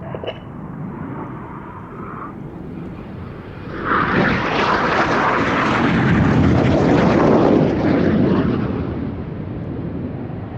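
Display jets roar past at the Midlands Air Festival 2025, a broad, powerful rumble that swells louder and then slowly fades over about ten seconds.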